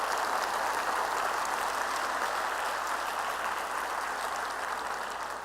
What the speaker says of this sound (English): if you would give them and our sponsors and our vendors a round of applause